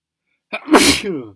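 A single sharp sneeze, close and loud, with a short breathy intake before the burst and a trailing vocal tail.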